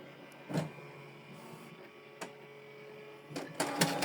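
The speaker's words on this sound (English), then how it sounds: "So it's printing out the document." A Canon Pixma TR4755i printer runs a copy job, a steady low mechanical hum with sharp clacks and rolling bursts as a document feeds through and prints close by.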